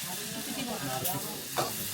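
Vegetables fry in a pan during home cooking of traditional hill food in a Chakma house in Sajek. A soft, steady sizzle goes on throughout with faint stirring, and it is quiet and close.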